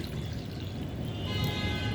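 Water poured into a mixture of raw green peas and spices for a masala puri dough made with rice flour, giving a steady, close, continuous splashing pour with no talk.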